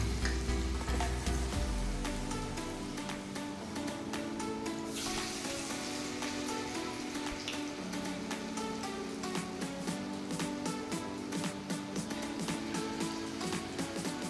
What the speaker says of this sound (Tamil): எல்லாத்தையுமே அது மாதிரி பால் ஃபுல்லாக நம்ம துவச்சி ஆயிலில் போட்டு ஃப்ரை பண்ணிக்க வேண்டியது.